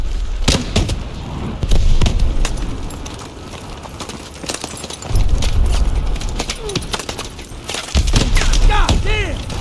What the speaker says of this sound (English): Pressure explosions. This place is going up.